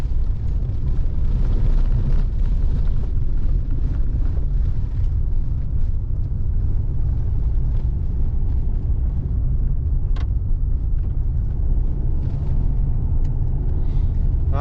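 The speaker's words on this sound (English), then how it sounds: "So the washboards seem to be the worst" Car rattling over a washboard gravel road on a drive from Jackman Park Campground to Kiger Gorge Overlook, a loud, continuous low rumble and vibration throughout with no talk.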